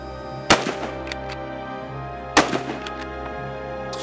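Two sharp gunshots ring out about two seconds apart on an indoor shooting club range, each a loud close crack with a short echoing tail over a steady background hum.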